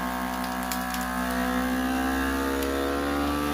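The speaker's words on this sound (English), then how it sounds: "Sucks all the air out of the bag again." A FoodSaver vacuum sealer pump drones steadily and close as it sucks air from a bag, its pitch slowly rising as it works, with a few faint clicks over the continuous whir.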